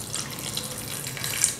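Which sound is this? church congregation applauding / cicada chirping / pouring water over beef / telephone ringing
pouring water over beef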